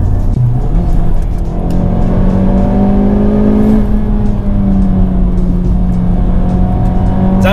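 A 2018 Honda Civic Type R in sport mode accelerating on a touge mountain road, its engine note loud and steady with a rising then falling harmonic tone heard continuously from close by, no talking.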